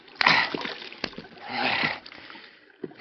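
A hand cups water from a stream in a short run of splashing and sloshing: two soft swishes, then a small drip near the end, close by with no talk.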